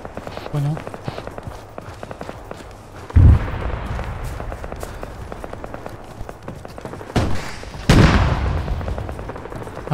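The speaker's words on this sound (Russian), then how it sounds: "АТ-шки летают." Anti-tank rockets and explosions in the ArmA 3 video game during a large multiplayer battle: two heavy booming blasts stand out over steady running footsteps and background gunfire, with people talking over it.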